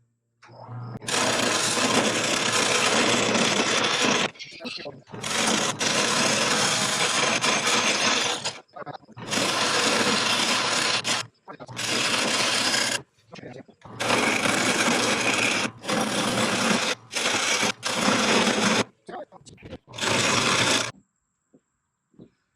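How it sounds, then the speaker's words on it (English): Wood lathe running on its new stand, a close mechanical whirring and rattling hum in repeated bursts separated by short stops, with a voice speaking between runs. "here is my lathe stand in action."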